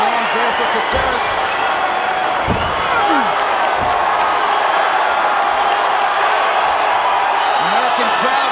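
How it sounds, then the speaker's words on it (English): Large arena crowd at a UFC fight night roars and cheers steadily throughout, a dense, loud wall of voices with occasional louder swells and a commentator talking over it. "American crowd here getting behind Caceres"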